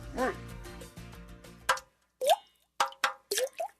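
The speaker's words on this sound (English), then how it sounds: "That's the sound of water coming from leaking pipes." Water drips and plops from leaking pipes, first in a quick run of soft drops over a low hum, then as several separate loud, close drops after a short silence.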